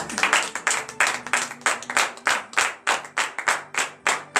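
Steady rhythmic clapping during a church morning prayer service in Benin, many hands together in a fast even beat, loud and close, with no voices over it.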